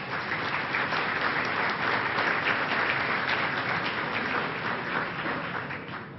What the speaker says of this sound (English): May we have a round of applause for all our dignitaries.